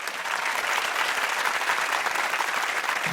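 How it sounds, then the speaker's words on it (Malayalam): A crowd at a celebration honoring actress Shobana applauds loudly and steadily, dense clapping from many hands filling the moment with no talking over it. "ഒരു കയ്യടി ആവാം."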